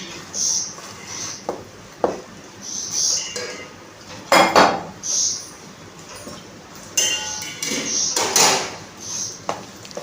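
Malpua batter stirred in a metal bowl, with a spoon scraping and clinking against the metal in uneven bursts, some sharp, close and fairly loud.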